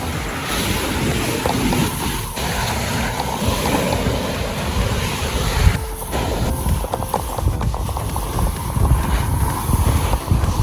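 Strong surf pounds a Boracay beach at a high-hazard stretch, a loud continuous roar of breaking waves mixed with heavy wind buffeting the microphone.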